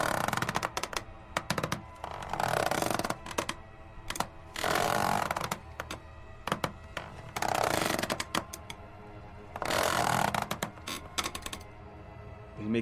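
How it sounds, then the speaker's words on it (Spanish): Sewing machine running in short rhythmic mechanical bursts, a rapid clattering stitch sound starting and stopping several times with quiet pauses between, close and alone without voices. "El mecánico y rítmico sonido de la máquina de coser."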